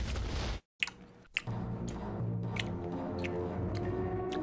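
Someone chews a watermelon-flavoured CBD gummy close to the mic, with a few wet, squishy bites and soft smacking at uneven intervals over a low background hum, no talk.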